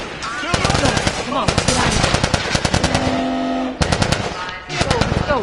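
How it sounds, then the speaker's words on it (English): Rapid automatic gunfire and single shots crackle through a firefight in The Last of Us on PS4, loud and nearly continuous with brief lulls, while voices shout over the shooting. "Fucking shoot him!"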